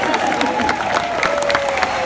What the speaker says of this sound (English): let's just clap for airplanes.